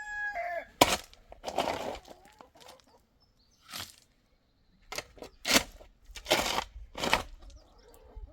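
A rooster crows in a rainy mountain setting, several loud, close bursts separated by pauses, with clucking and some wing flapping between calls.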